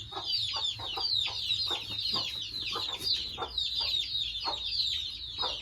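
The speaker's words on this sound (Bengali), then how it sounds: "মুরগি খিদা আসছে রে কুড়ি খিদা আসছে" Chickens cluck in a busy, overlapping stream of calls, fairly close and continuous, with no speech over them.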